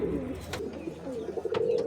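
Fancy pigeons coo steadily on a farm, soft rolling coos repeating close by with a few wing flutters and faint chirps mixed in, no talking.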